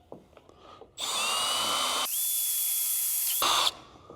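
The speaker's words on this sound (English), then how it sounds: "You use this and then drill through" A power drill bores through a slat angle, starting with a steady high whine and then shifting to a sharper, piercing tone before it stops. It sounds close and loud, with faint handling noise at the start.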